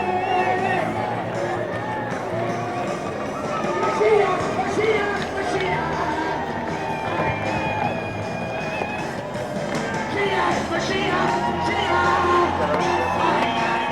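A lively crowd partying on a boat and along a shoreline at a Winterfest boat parade, with steady cheering, shouting and chatter mixed with music throughout at a fairly even, close level.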